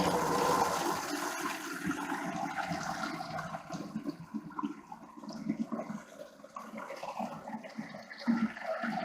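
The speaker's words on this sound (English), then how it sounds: "I'm going to fill up this 5 gallon bucket here, see how long it takes to get filled up" Water from a faucet runs steadily into a 5 gallon bucket outdoors for a sprinkler setup, a fairly quiet continuous splashing and gushing that shifts in tone as the bucket fills.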